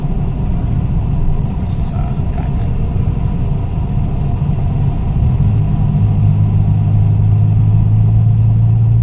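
A Toyota Corolla engine rumbling during a test drive after repair, heard from inside the car as a steady low drone with a rising hum later, loud and continuous.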